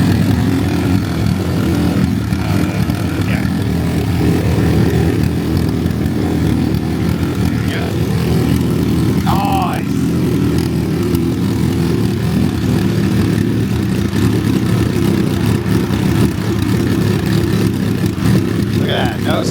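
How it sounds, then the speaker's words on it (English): Turbocharged motorcycle engine running on a stand ahead of a dyno session, a loud, steady close-up idle rumble with mechanical chatter throughout, and brief voices faintly in the background. "we're gonna fire it up. Kind of do some checks here on the bike"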